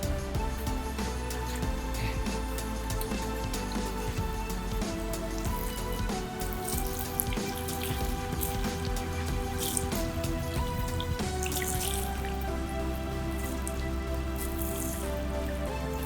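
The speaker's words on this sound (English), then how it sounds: "Last thing to do is to water it in." Water splashes and patters continuously onto soil and leaves around a newly planted tree, like a steady pour from a hose or can.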